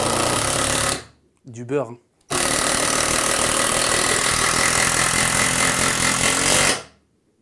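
An AEG cordless impact driver hammering in a screw, loud continuous rattling impacts in two long bursts separated by a short pause where a voice speaks briefly, then the tool stops.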